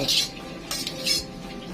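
Metal utensil scraping and clinking against a hot pan while stir-frying a Thai home-style dish, a few quick bright strokes, close and alone.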